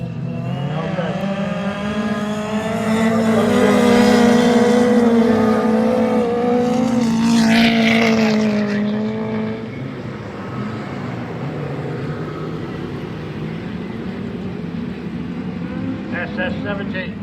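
Autograss racing cars at a Southern Autograss heat roar loudly, engines climbing and falling in pitch as they pass, then settling to a steady drone, with a commentator talking over the noise.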